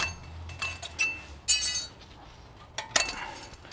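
Metal brake clips being pried off a Ford Crown Victoria during a brake job, giving a few sharp metallic clinks and snaps scattered over several seconds, close by with no talking.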